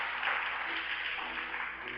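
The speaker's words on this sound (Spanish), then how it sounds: "¿Cuántos le aplauden al Señor?" A church congregation claps together in a steady, dense wash of applause, faint and distant for a couple of seconds.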